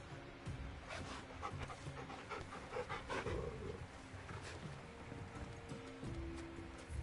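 A dog panting in the video game Final Fantasy XVI, quick rhythmic breaths running steadily and fairly faint over low ambient game sound.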